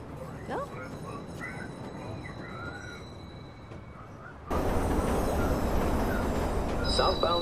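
A train pulls into a station in the video game Watch Dogs, with a low rumble and squealing wheels that jump suddenly louder partway through, while voices murmur faintly underneath.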